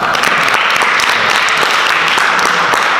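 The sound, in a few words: audience applause after a skit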